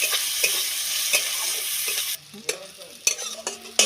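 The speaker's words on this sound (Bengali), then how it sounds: "পেঁয়াজ ভালো করে ভেজে নেব" Onions with cumin sizzle and fry in a pan for a Bengali pui vituli chachchari, with steady close frying noise broken by several stirring scrapes and clinks, then a quieter stretch with sharp utensil knocks.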